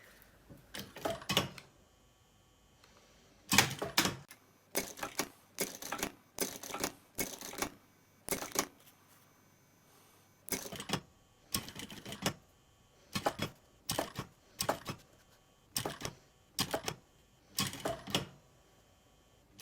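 A sewing machine stitches a seam around the edge of a faux-leather kids' lunchbox, running in short rhythmic bursts separated by brief pauses, close and clear with no talking.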